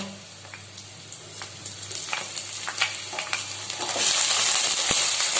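Mutton and onion fry in a pan, with a close, steady sizzle and scattered stirring clicks that swell into a louder hiss near the end, with no talking.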